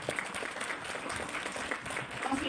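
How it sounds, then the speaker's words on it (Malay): Seminar audience applauding a company founder, a soft, steady patter of many hands clapping, fairly quiet and distant, continuing evenly for a couple of seconds without speech. "Bagi tepukan tuan-tuan kepada founder kita"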